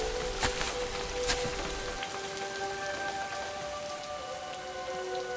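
Rain falls steadily on surfaces around a derelict homestead, a dense hiss with scattered drip taps and a few louder splashes, constant and moderately loud with faint tonal background hum.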